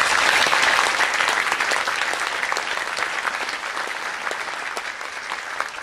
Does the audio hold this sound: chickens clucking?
no